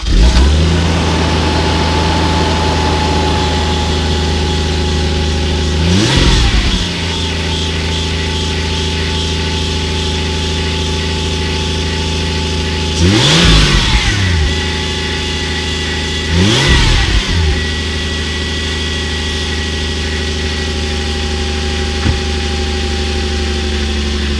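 An old Toyota Supra, started after sitting for years, runs at a high, steady idle, loud and close, with a few short revs and throttle blips rising and falling over the drone.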